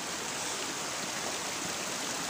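Stream water in a rural area rushing and gurgling in a dense, constant broadband wash, close and fairly loud, steady throughout with no talking.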